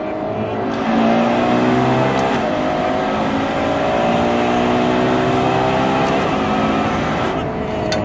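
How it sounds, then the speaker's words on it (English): A Ferrari engine drones and climbs through the revs as it accelerates with the exhaust closed, fairly muffled and steady, heard from inside with the pitch rising and shifting between gears. "I'm gonna do an acceleration with closed exhaust"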